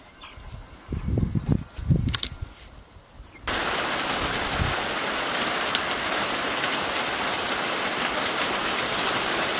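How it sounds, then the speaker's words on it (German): Steady rain pours down loudly and evenly on a garden plot after a few seconds of quieter rustling and thumps, a dense continuous hiss filling the scene. "wir sind so froh, dass es jetzt endlich angefangen hat zu regnen"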